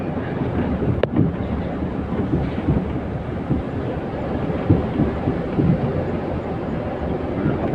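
Rain or drizzle falls on a slick road while a truck drives through it, giving a dense, steady hiss and rumble close to the microphone with no voices.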